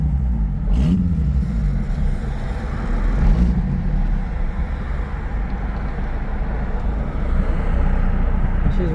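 A car engine idles and revs with a steady, heavy low rumble and a couple of brief pops while its clutch is tested after slave cylinder work, running rough and unevenly tuned.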